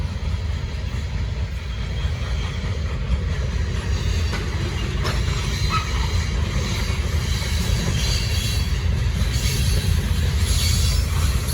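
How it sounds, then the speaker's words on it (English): A short Norfolk Southern freight train led by Union Pacific AC locomotives rumbles past continuously, with low rolling noise, rattling cars and occasional faint wheel squeals, loud and close throughout. "It's not even that long of a train."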